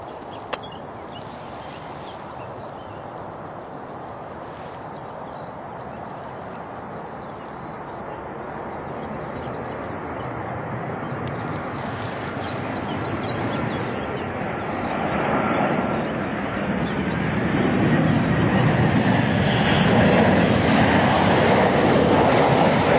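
Aircraft noise at Stansted Airport rises gradually from a distant rumble to a louder broadband roar as a plane approaches, with steady wind-like background and no talk.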